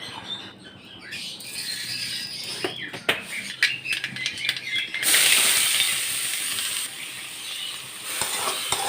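Chopped beans for thoran sauté in a hot pan, a steady loud sizzle broken by scraping and stirring clatters, then a brighter hiss that continues to the end. No one speaks.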